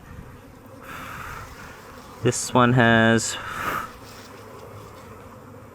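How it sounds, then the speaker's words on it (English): Bees buzz around an opened hive during queen release, a soft steady drone with one loud, close buzzing pass of a single bee in the middle; a person speaks briefly. "So a lot more bees now, because I think the bees came up stairs to greet her."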